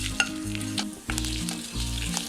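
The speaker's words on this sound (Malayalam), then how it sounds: "ഇനി ഇത് നല്ല മൂക്കെ ഒന്ന് വറുത്തെടുക്കണം." Coriander and fenugreek seeds roasting in coconut oil for a Kerala dry prawn theeyal give a steady close sizzle, with stirring scrapes and a low hum underneath and no talk.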